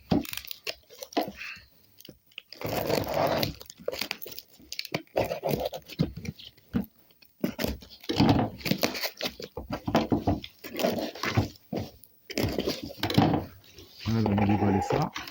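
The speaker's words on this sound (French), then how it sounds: "Voilà, on va déballer ça." A parcel of coins being unwrapped by hand, with intermittent rustling, scratching and tearing of packaging in close, uneven bursts separated by short quiet gaps.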